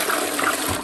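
A newly fitted toilet flushes after its green button is pressed, giving a short, loud gush of rushing water at close range.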